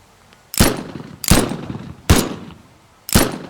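Gunfire in the video game Teardown: four loud, sharp single shots spaced roughly a second apart, each with a short decaying tail, standing alone with no talk over them.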